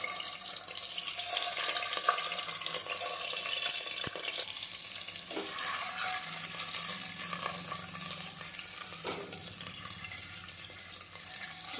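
Eggs frying in hot oil in a pan, a steady hissing sizzle that holds through the whole stretch, close and even, with a few faint clinks and small knocks, no voices.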